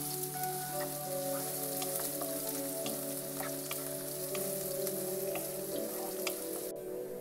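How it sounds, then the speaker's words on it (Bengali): Chopped onion and garlic frying in a pan until brown for desi-style noodles: a steady, dense sizzling hiss like light rain, continuous and even throughout, with a faint tonal hum beneath. "তো পেঁয়াজটা ব্রাউন হওয়া পর্যন্ত আমি ভেজে নেব।"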